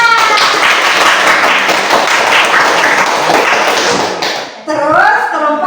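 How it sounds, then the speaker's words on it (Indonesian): Children in a classroom clap together loudly and continuously for several seconds, a dense burst of hand claps that cuts off abruptly, followed by a voice speaking. "Tepuk tangan."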